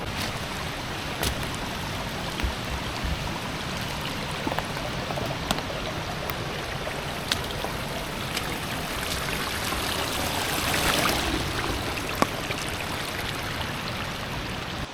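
Steady rushing and trickling of a stream at Rock Island State Park, continuous and fairly close, with a soft babbling texture and no voices.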